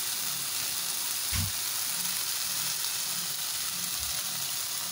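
Spice masala for Hyderabadi baghara baingan fries in hot oil in a pan, a steady dense sizzle with a few low stirring thumps and scrapes.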